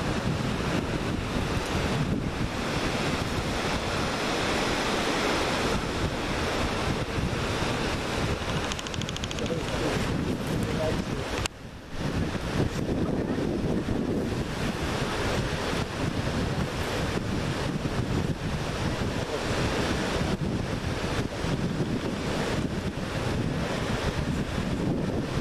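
A waterfall in the Julian Alps, heard from a viewpoint, roars as steady broadband rushing water with heavy wind buffeting the microphone, constant and loud apart from one brief dip midway.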